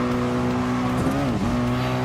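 Racing car in Gran Turismo Sport, a loud sustained engine drone with a brief pitch wobble as the car bumps and scrapes against the barrier, continuous and close throughout.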